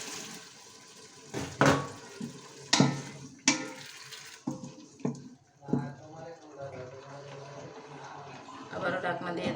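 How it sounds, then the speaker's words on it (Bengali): Water is poured into a cooking pot of curry with green chillies and tomatoes, lid clattering on and off, giving splashy pouring and clanks amid intermittent speech, ending in a soft bubbling simmer. "এখন দেবো সামান্য পানি।"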